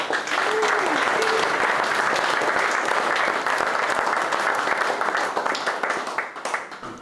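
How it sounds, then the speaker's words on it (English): Crowd applause at a bass fishing tournament weigh-in, loud and sustained clapping from many people that holds steady and then tapers off at the end. "Big round of applause for Mitch Carney."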